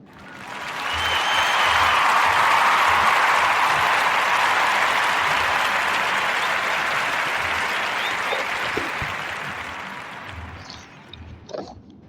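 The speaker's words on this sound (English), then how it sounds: "we're gonna clap it up for him" Sustained applause from a crowd, swelling quickly and holding loud for about ten seconds before tapering off into a few scattered claps.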